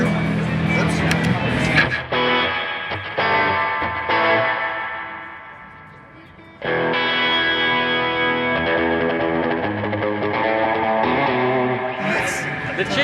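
An electric guitar plays chords through a Wampler Faux Spring Reverb pedal, notes ringing out with a wet, splashy tail and a short pause midway.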